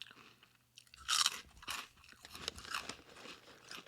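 Close-up chewing of crunchy snacks, a loud bite followed by repeated crunching and munching in an irregular rhythm, right at the microphone.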